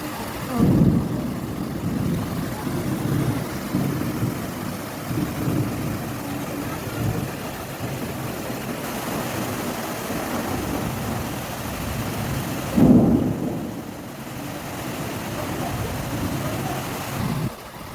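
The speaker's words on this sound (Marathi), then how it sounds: "सगळं पाऊसच आहे इकडं अंधार अंधार आहे झालाय पाऊस" A heavy storm of wind and rain, with hail reported, roars as a dense, steady wash of noise, with gusts buffeting the microphone in bursts near the start and around the middle.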